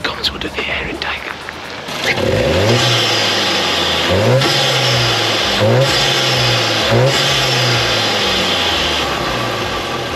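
A VW Mk7.5 Golf GTI Performance engine, warm-started, revs hard in repeated bursts, each rising and dropping back, loud and close with a rushing intake whoosh over a steady idle.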